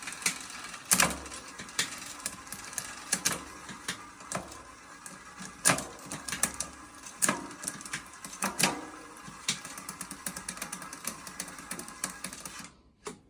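Bicycle rear derailleur being adjusted and shifted down through the gears, a series of sharp mechanical clicks and ratcheting chain clatter at an uneven rhythm, close and fairly quiet, no talking.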